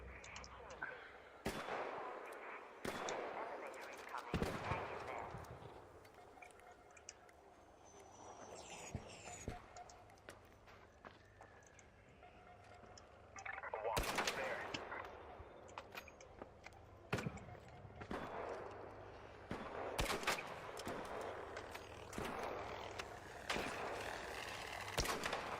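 Scattered gunshots from the video game ARC Raiders come as sharp isolated cracks and short clusters over about twenty-five seconds, against a quieter background with a voice talking at times.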